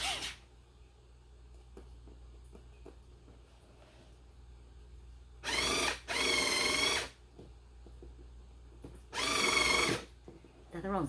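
A handheld electric screwdriver drives screws while cheap furniture from an online store is assembled, two short whirring bursts of about a second each over quiet room tone.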